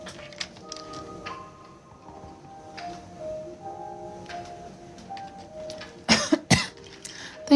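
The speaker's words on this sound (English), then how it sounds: "Like I'm not coughing as much as I was before." Two sharp, close coughs burst out near the end of a quiet indoor stretch, following a faint tonal hum and light tapping.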